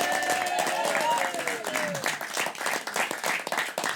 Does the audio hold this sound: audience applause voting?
yes